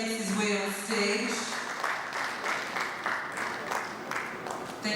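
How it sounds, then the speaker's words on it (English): Enthusiastic audience applause at a corporate product unveiling event as a man walks onto the stage, loud and sustained, with an announcer's voice heard over the opening moment. "A round of applause as he makes his way on stage."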